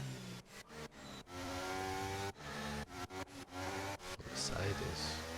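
Formula 1 cars in the F1 video game at Imola on a formation lap, engines rising and falling in sharp revving bursts with abrupt cuts, loud and close, under a commentator's voice.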